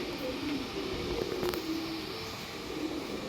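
Pigeons of a red-headed fancy breed cooing softly in a loft, low murmuring calls repeating over a faint steady background hiss.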